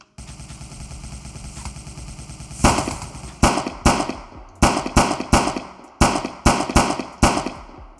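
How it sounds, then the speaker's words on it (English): Minigun fire from a boss enemy in a game AI template, heard as a low mechanical whir followed by rapid, loud bursts of repeated shots in quick succession. "Has a minigun."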